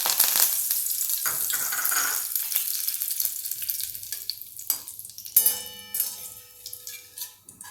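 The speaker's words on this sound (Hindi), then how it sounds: "अब हम इसमें इसी गरम तेल में हम ये कड़ी पत्ता डाल देते हैं।" Curry leaves sizzle and crackle loudly in hot oil as they hit the pan for a Lamboti chivda. The bright hiss fades into sparser pops and spits as the frying settles.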